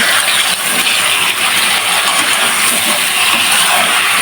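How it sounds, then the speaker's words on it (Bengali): Green plantain slices hit hot salted oil in a pan, producing a loud, continuous, dense hissing sizzle that holds steady throughout with no voices. "ভেজে নেব কলাটা"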